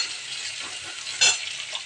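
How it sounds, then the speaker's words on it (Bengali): Garlic and onion fry in oil in a pan, a close, steady sizzle with soft stirring scrapes and one brief louder burst of spatter midway, with nobody talking. "এবার এটাকে ভালো করে ভাজা ভাজা করতে হবে।"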